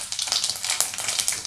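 Fenugreek and mustard seeds frying in hot oil, a busy crackling sizzle with quick popping bursts, close and continuous for a brief moment.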